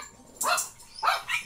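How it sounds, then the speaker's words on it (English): Two short bursts of dog barking, fairly close and loud, with a brief quiet gap between them and no talk over them. "Stupid dogs think Lisa's home"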